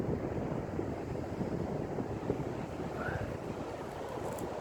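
Steady, rough wind buffets the microphone, a constant low roar with no voices or other distinct sounds.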